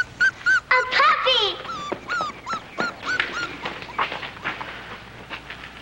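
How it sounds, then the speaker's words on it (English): A puppy whimpers and yips in high, wavering cries, close and repeated over several seconds, the thin whines fading into softer whimpers toward the end. "A puppy!"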